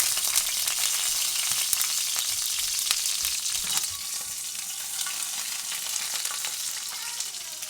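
Broccoli fries in a pan with venison, giving a loud, close, continuous sizzle with crackling pops and some stirring, and no talk over it.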